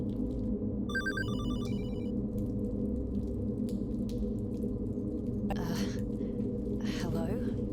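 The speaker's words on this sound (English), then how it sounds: "Oh, phone." Telephone ringing inside the Hollowbody horror game: a bright, repeated electronic ring in two short bursts near the start, over a constant low ambient drone with a few soft breaths or gasps later.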